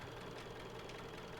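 A tractor engine idles and chugs steadily in Farming Simulator 19, a faint, continuous low mechanical drone with a slight knocking texture and no talk.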